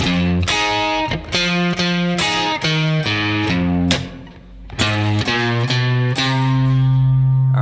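An intro phrase rings out on distorted electric guitar, with punchy repeated chord hits, a short pause, then the same opening and a descending line, played loud and up close with no voices.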